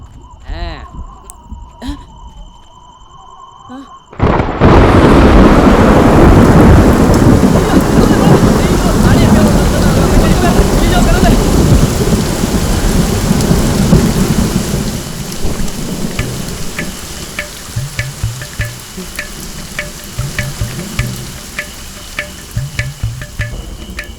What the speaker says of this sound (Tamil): அப்படியே அந்த மலை மேல மழை பெய்யற மாதிரி ஒரு ரெயின் எஃபெக்ட் போட்டா சூப்பரா இருக்கும்ல?